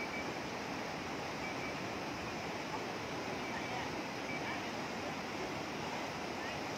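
Floodwater pours over a washed-out road in Wichian Buri, Phetchabun, a steady, dense roar of rushing water that stays loud and unbroken throughout, with no pauses.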